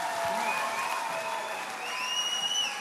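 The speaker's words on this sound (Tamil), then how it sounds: "எங்க உங்களோட கரகோஷம்," An audience at a Tamil film world premiere event applauds the cast with steady, moderately loud clapping, along with a few faint whistles and cheers.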